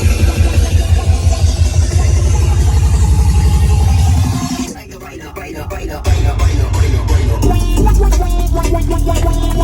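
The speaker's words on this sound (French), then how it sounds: "il y a des voitures aussi dans cette ville" Cars drive through a French town, a loud engine drone rumbling close by, briefly dropping off mid-clip before rising again with clattering and rattling.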